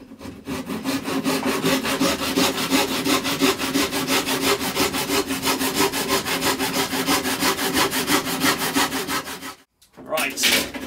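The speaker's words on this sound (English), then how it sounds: "We just find a saw somewhere and we will cut that piece. Ah, the fine tooth tenon saw." Fine tooth tenon saw cutting through a piece of wood in fast, even back-and-forth strokes, close and loud, stopping briefly near the end before a final stroke.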